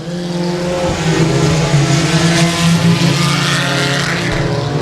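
A 4-cylinder race car lapping Timberline Speedway at around 66 mph, its engine a loud sustained buzzing drone holding a steady pitch that swells slightly in the middle, continuous with no talk.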